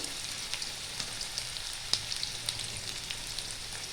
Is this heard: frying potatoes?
yes